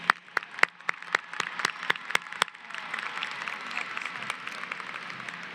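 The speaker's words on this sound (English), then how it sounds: "giving them a loud round of applause right now" Applause at a high school graduation ceremony, opening with a few loud separate claps before a broad, fairly distant crowd clapping swells and continues evenly.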